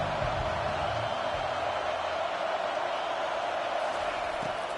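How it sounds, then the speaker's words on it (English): A football stadium crowd roars steadily on a third-down play, a dense sustained wall of cheering noise that swells without letup, with no talk over it. "Decibels rising as the crowd gets behind this defense on third down."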